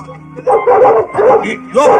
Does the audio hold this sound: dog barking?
yes